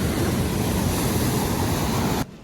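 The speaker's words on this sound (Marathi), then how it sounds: "मित्रांनो, झऱ्याचं पाणी येतंय बघा" Clear spring water runs steadily near a village, a continuous broadband rush that stays loud and constant before cutting off abruptly near the end, with no voices over it.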